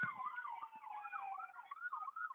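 A city ambulance siren wails continuously with a rising and falling yelp, loud and close, over faint traffic rumble with no talk.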